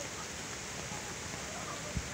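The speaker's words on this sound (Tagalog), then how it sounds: "Di natigil ang ulan." Steady heavy rain falls over countryside rice fields, a continuous broadband wash of water with a brief soft thump near the end; a voice speaks faintly beneath.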